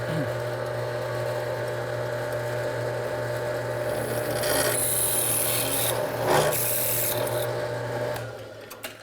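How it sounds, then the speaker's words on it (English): A drill bores into aluminum, giving a steady, continuous grinding rasp close by that swells louder and brighter midway through before easing off near the end. "Let's drill."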